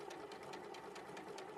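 A sewing machine stitches a small fabric triangle along its top edge, running steadily at close range with a fast, even needle rhythm throughout and no talk.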